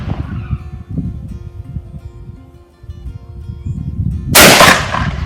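A single sharp Baikal gunshot cracks out late, aimed at a target 50 metres away on an outdoor range. Steady wind-like rumble and background noise run under it before and after.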